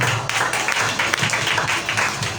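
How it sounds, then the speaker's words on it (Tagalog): A church congregation at a Sunday service claps together in a loud, sustained burst of applause, with no one speaking over it. "Malakas na palakpak muli sa ating Panginoon."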